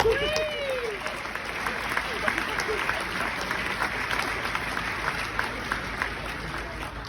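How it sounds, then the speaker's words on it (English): Steady applause from a crowd at a baccalaureate ceremony fills about seven seconds, dense and continuous, with a few voices and a whistle-like sound near the start. "Everyone give a round of applause for Mr. Neal."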